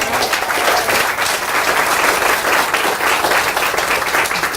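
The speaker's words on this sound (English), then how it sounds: "let's give another round of applause to Scott as well" Sustained, dense applause from a crowd at a library grand opening ceremony, loud and steady throughout with no break.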